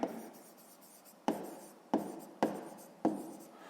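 A pen works out a math solution on paper in a series of sharp taps and scratchy strokes, about five distinct marks at irregular intervals, close and quiet with no talk.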